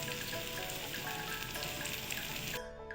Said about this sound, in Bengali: রসুনটা খুব বেশি ভাজা লাগবে না। এখন আমি মরিচের গুঁড়া আর একটু হলুদের গুঁড়া দিয়ে দিচ্ছি